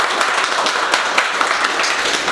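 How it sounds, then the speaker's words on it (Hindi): Applause from a classroom audience at a mobile-repair training institute, a steady dense wash of many hands clapping together throughout, fairly loud and close with no talk over it. "जोरदार ताली बजा दो सर के लिए।"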